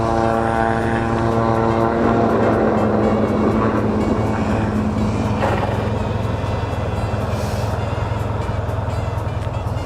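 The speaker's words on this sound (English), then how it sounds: "Oh, there's one going to take off there." A propeller airplane takes off at an airport, its engine drone loud, steady and continuous with a rising roar for the full stretch, heard from nearby without voices.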